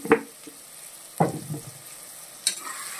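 Country chicken meat frying in a pan, with a low sizzle and three distinct scraping stirs of a utensil spaced about a second apart, fairly close and without talk.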